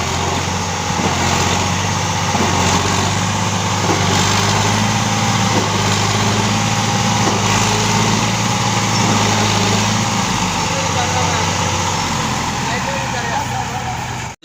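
A tractor engine runs hard and steadily for the whole stretch, straining loud and close to pull a trolley stuck at a tubewell bore installation site, with a constant low drone and some voices beneath it.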